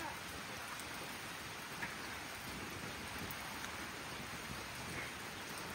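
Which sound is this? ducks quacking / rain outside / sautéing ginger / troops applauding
rain outside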